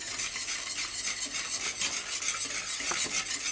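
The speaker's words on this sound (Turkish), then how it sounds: "Öncelikle bunu güzelce karıştıralım" Tiramisu cream mixture with a packet of vanilla being stirred by hand in a pot, with a steady scraping swish of the utensil and light clinks against the sides, close and continuous with no talk.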